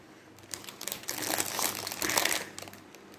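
Crinkly plastic packaging from a haul parcel being unwrapped up close, a continuous rustling crackle that swells and fades over a few seconds with no talking.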